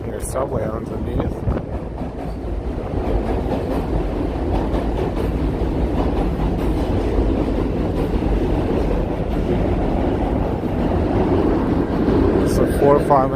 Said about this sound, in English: I hear subway underneath.